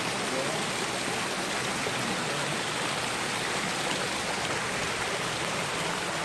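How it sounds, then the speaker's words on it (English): A small creek flowing along a bush walk, a steady close rush of running water, broad and unbroken throughout with no clear voices. "Just a mini creek crossing."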